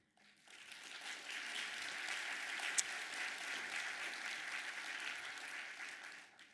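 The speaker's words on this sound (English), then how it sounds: "You're going to be clapping a lot" A theater audience breaks into sustained applause, a dense, even wash of many hands clapping that rises quickly, holds steady for several seconds and then tapers off.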